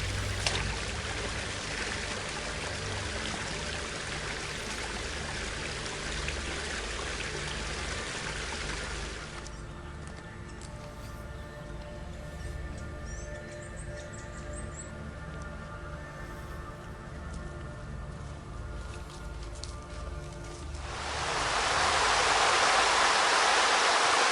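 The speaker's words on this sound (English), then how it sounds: "The first part of the walk is up by this very pretty river, very clear water" Steady rushing of a clear river flowing on New Zealand's Dusky Track, no voices, changing in character partway through and swelling louder toward the end.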